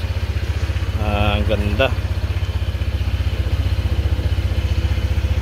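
A brand-new Honda PCX motorcycle idles close by with a steady, even low rumble throughout, and a voice speaks briefly over it.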